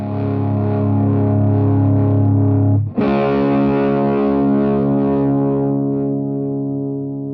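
An electric guitar rings through a Mad Professor Mighty Red Distortion pedal: one thick sustained distorted chord, then a fresh strum near the middle that rings out and slowly decays.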